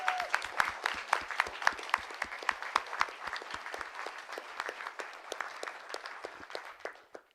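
A symposium audience claps at a moderate distance, the applause steady and sharp before thinning out to a few final claps.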